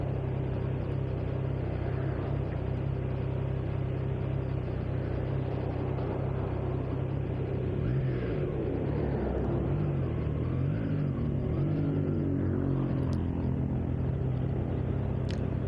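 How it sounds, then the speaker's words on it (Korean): A Triumph Trident 660 motorcycle's exhaust muffler rumbles steadily and low in a noisy place, the engine note wavering slightly in pitch midway through, with no talking. "매우 시끄러운 장소이긴 하지만 머플러 소리가 너무 작게 느껴지네요"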